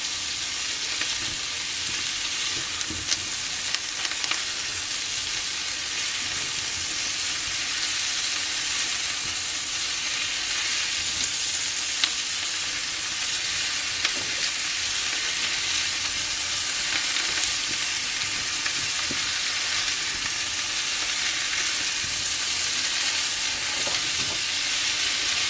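Cauliflower frying in a pan with paprika and garlic, a steady close sizzle and hiss that continues unbroken, with occasional scrape-like clicks from stirring and no voices.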